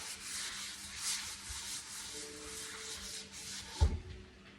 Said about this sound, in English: I'm just gonna coat all of my pans here